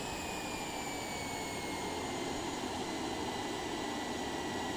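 Simulated Boeing 707 jet engines idle in Microsoft Flight Simulator, giving a steady, even turbine whine and airy roar with a faint high tone, continuous and fairly quiet, with no voices.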